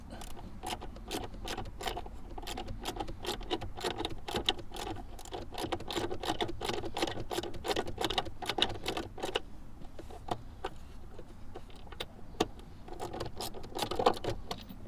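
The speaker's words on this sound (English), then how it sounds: "this is the second bolt that comes out" A tool works loose a bolt on the hood latch of a 2015 Hyundai Sonata whose hood is stuck: rapid close ratcheting clicks in dense bursts with short pauses, fairly quiet, with no voices.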